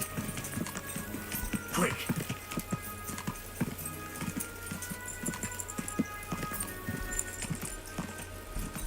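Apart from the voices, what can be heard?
horse clip-clop and neighing in a video game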